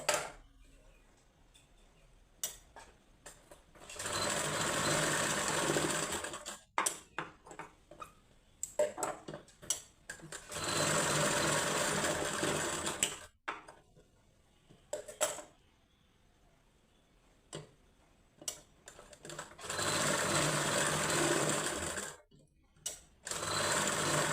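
A sewing machine stitches a katori blouse in four long, close bursts of steady whirring, with clicks, fabric handling and short pauses between runs.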